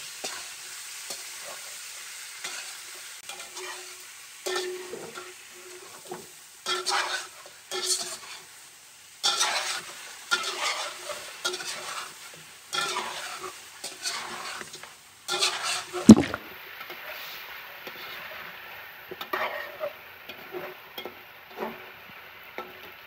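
Fried chicken is stirred in a pan of creamy chicken adobo with mushrooms, a faint sizzle running under repeated scraping strokes of a spatula that come in bursts and pauses, with one sharp knock of utensil on pan partway through.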